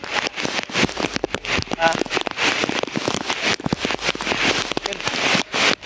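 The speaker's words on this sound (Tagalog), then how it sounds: "Kasi grabe yung lakas ng ulan." Heavy rain drums hard and close in a dense, crackling patter of drops that rises and falls in loudness without a break.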